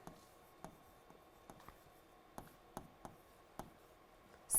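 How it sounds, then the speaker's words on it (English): Chalk or a marker taps and scratches out a single word on a board in a series of quick, sharp strokes with short pauses between them, near and fairly quiet, with no voices. "So here we need to write generator"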